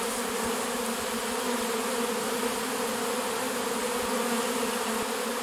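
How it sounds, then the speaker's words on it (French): A large honeybee swarm hums in a steady, dense drone, close and continuous with no pauses, and no voices present. "On voit quelques abeilles qui vont se balader dedans."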